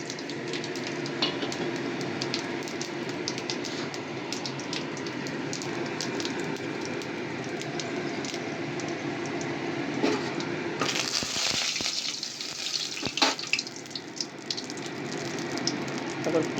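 Whole garam masala and cumin seeds sizzling in hot mustard oil for a chicken dish, a steady close crackling hiss throughout that grows sharper and brighter near the end.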